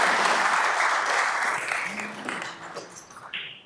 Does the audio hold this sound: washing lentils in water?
no